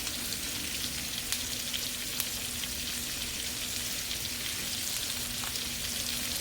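Asparagus sautés in a skillet with a soft, even sizzle that runs the whole time. A few faint clicks break through, and no one talks.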